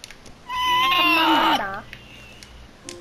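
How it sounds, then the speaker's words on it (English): A cat in Minecraft lets out a single drawn-out, wavering meow, fairly close and clear, over a quiet game background. "I found a cat."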